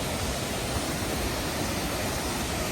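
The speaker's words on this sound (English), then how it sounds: "Cute baby waterfall." A small waterfall on a hiking trail pours in a steady, dense broadband rush, close and continuous with no breaks or voices.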